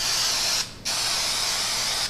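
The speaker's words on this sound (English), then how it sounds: "Again, spray liberally." Aerosol can of adhesive spraying onto the rough side of a saddlebag liner for a Victory motorcycle: a loud, close, steady hiss that cuts out briefly, then resumes and continues.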